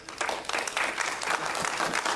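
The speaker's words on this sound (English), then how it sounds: "let's go ahead and give the Lord a hand clap" A church congregation claps together during a worship service, a loud, even roll of many hands that holds steady from start to finish, with no talking.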